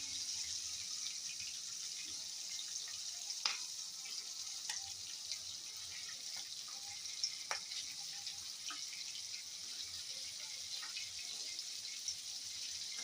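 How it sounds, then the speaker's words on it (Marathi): Green eggplant roasting in a pan gives a faint, steady hiss with occasional soft ticks and crackles, quiet and continuous with no voices. "आता हे चांगलं भाजून घ्यायचं."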